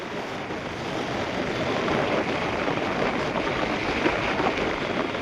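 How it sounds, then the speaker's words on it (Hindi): Cold wind blows outdoors near Delhi Gate, a continuous broadband rush buffeting the microphone, steady and fairly loud with no talk. "बहुत ठंडी हवा चल रही है"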